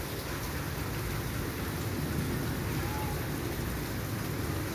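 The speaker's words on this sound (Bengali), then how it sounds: "বৃষ্টি কমতেছে না।" Heavy rain pours down in a steady, dense hiss, unbroken and loud throughout, with no pauses.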